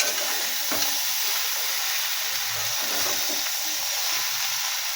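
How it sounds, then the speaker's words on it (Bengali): Fig (dumur) curry with cumin powder sautéing in a pan gives a steady, close sizzle with soft stirring scrapes, heard alone without talk. "ওই জন্য আমরা কষিয়ে নিতে হবে একটু হালকা করে দিয়ে জল দিয়ে দেবো"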